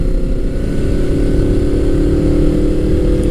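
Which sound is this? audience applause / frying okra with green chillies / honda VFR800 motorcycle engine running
honda VFR800 motorcycle engine running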